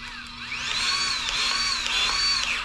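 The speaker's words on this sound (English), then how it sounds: "Got my little Milwaukee grease gun." A Milwaukee battery grease gun pumps grease into a Mustang's control arms, its small electric motor whining up and down in close, rising and falling pitch sweeps.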